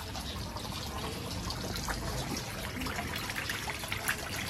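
Small garden water feature in sunny Puerto de la Cruz, Tenerife, a soft continuous trickle and gentle splashing of running water, faint and steady with quiet outdoor ambience.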